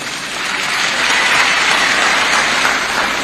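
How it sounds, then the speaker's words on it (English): An audience at the UPND manifesto launch claps for itself, the applause swelling from a quieter start into a loud, dense, sustained roar of many hands with no talk over it. "Let's clap for ourselves for being here."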